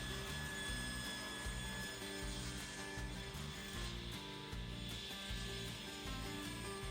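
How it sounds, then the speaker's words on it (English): A table saw with a crosscut sled cuts white oak parts to length, making a loud, continuous whine with a rhythmic, pulsing grind from repeated cuts, close by and with no talking. "now I'll use the crosscut sled to cut all the parts to length"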